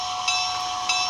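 A Tsunami2 electric locomotive sound decoder on a model train begins to move, giving a steady bright hiss with a hum beneath it and two short louder surges, with no talking.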